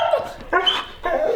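Dogs excited before a walk let out three short close yelps and whimpers in quick succession, loud and high-pitched, with no talking over them.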